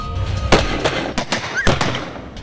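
Firecrackers bursting outdoors near a street stall, a rapid irregular string of sharp cracking pops over a noisy rumbling background, with no talking.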